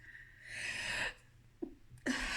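One close sneeze breaks into a maths lesson: a breathy intake, a sharp burst, then a second short blast after a pause, with no talking around it.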